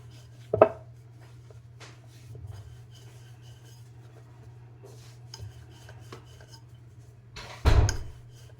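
Spinach puri dough is rolled out on a flour-dusted board with a rolling pin into a large round, making soft rubbing scrapes and light taps over a low steady hum, with a sharp knock at the start and another near the end.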